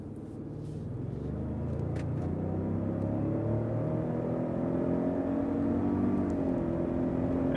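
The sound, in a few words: twin-turbo engine induction of 2021 Lincoln Navigator accelerating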